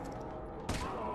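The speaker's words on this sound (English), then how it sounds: "Nice shooting, Alyx." A single sharp gunshot cracks out over a steady background hum during Half-Life: Alyx virtual reality game combat.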